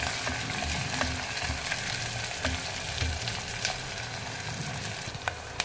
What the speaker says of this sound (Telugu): కరివేపాకు వేసేస్తాం ఒక టూ మినిట్స్ దాన్ని ఉడకనిస్తాం